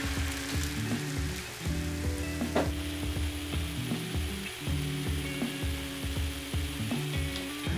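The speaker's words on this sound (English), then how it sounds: "add 100ml of the marinade to the pan" Chashu pork marinade bubbles and sizzles steadily in a hot pan, close and constant, with faint clicking and scraping movements underneath and no voices.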